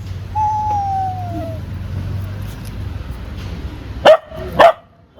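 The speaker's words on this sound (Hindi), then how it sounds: "कौन भौंकने बोल रहा है?" Two sharp, loud dog barks ring out near the end, following a quiet stretch with a faint whine and low hum.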